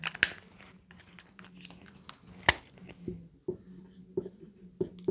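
A pen writes on paper in short scratchy strokes with small taps and pauses between them, close and quiet.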